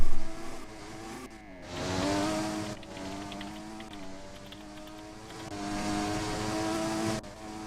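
A McLaren Formula race car in a racing game roars steadily at high revs, the engine pitch rising and falling through gear changes, with a brief drop in level partway before it surges on loud and close.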